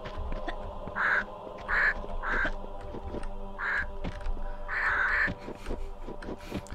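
Crows caw in the Barkhang Monastery level of Tomb Raider II, several short harsh calls in scattered pairs over a steady game ambience and background clatter.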